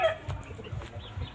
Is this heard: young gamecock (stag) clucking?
yes